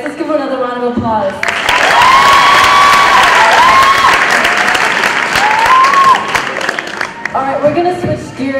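Sustained, loud applause from an audience at a 12th grade high school graduation ceremony, with cheers and whoops rising over the clapping before it tapers off; voices can be heard at the start and the end.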